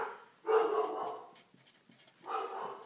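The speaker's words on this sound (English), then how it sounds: "Sorry, that's my dog." A dog barks in another room of a house, two drawn-out barks or howls separated by a pause with faint rustling, moderately loud and somewhat distant.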